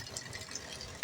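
Water runs into containers in a village where the borewell has broken down, a brief steady gush and splash from a tap, close by.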